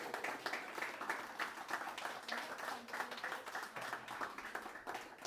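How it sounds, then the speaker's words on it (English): Soft, continuous clapping from a crowd at a small Australia Day community awards ceremony in Cambooya, honouring the Citizen of the Year. The applause stays faint and even throughout, with no voices over it. "Big round of applause."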